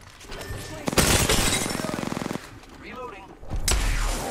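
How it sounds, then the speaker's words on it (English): Automatic gunfire in the video game Apex Legends rips out in a rapid, loud burst of evenly spaced shots lasting over a second, followed by scattered single shots and a heavy impact. "someone's shooting behind, behind."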